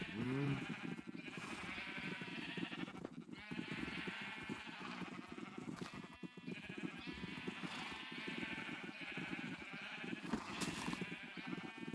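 Repeated sheep bleats from the Minecraft video game, several overlapping calls at a steady pace alongside game sounds.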